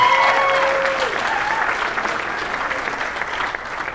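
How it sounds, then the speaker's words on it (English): An audience at a gala supporting Palestinian causes breaks into warm, sustained applause, loud and steady before easing slightly, with a brief tonal whine at the start. "let's give her a round of applause"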